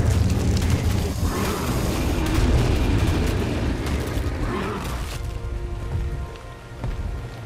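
Creatures being set on fire in the Ark video game on Scorched Earth, a loud crackling, roaring burn with a couple of whooshing flare-ups that fades toward the end, no speech.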